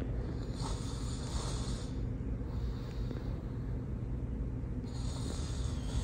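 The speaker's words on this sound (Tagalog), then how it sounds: "naghihilik siya" A sleeping man snores loudly, with long rasping breaths rising and falling in a slow rhythm over a steady background hum, close and continuous with no talking.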